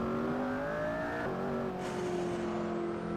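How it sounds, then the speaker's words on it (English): McLaren P1 hypercar at speed on a race track, its engine holding a loud steady drone with a brief dip in pitch midway, then a sustained high whine, close and continuous with no talk. "this was me racing in this McLaren P1"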